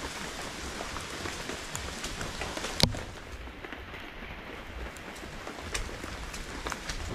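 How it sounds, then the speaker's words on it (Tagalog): Steady rain falling outdoors near a simple hut, a dense continuous patter on surfaces with one brief sharp knock partway through, no voices. "Hanggat hindi pa malakas ulan."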